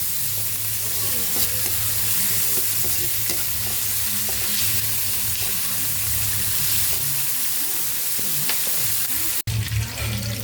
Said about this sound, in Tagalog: Maluluto na po yung ating pritong tilapia